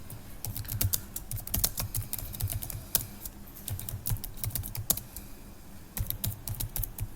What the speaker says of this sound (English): So just type the commit.